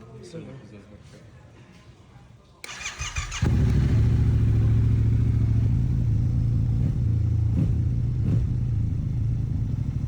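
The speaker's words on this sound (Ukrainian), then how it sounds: "давайте запустимо двигун" A quiet room gives way to an engine cranking and catching, then a motorcycle idles steadily and loudly, close by.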